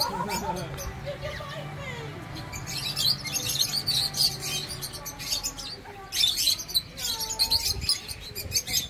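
Small birds chirp and tweet in quick, high bursts, fairly close and repeated through the scene, while people talk over and between the calls.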